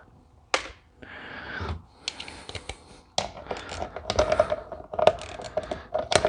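A Capri ratchet clicking during a Ford 10 series tractor diesel injection pump teardown, with quick bursts of light mechanical clicks and taps separated by short pauses, close and fairly crisp.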